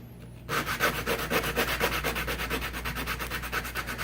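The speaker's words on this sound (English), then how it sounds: "I'm just twisting it around, you know, sanding and turning, sanding and turning, sanding and turning." A wooden pick handle having its corners sanded by hand, a steady rhythmic rubbing and scraping that starts after a brief quiet moment and runs in even back-and-forth strokes, close up with no talk.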